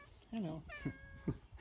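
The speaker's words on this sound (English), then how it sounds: "Oh, that's my cat, by the way." A house cat meows twice close by in a workshop where an engine oil pump is being examined, the short rising cries separated by a brief pause, with a person's voice speaking a greeting alongside.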